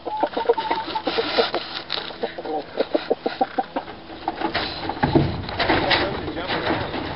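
Hens cluck and squawk in a steady, busy chorus at close range inside a hen house, with short sharp calls scattered throughout and people talking now and then underneath.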